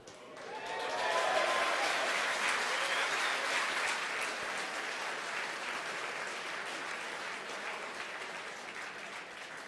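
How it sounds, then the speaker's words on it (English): Applause in SpaceX mission control after Falcon 9 fairing separation during the Hispasat 30W-6 launch, a crowd clapping that swells in quickly, peaks, then continues steadily at moderate loudness for several seconds. "Again, the applause."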